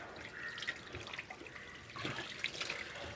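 Muddy water flows out of a hose during cleaning of a water tank, making a steady splashing, gurgling stream at moderate volume.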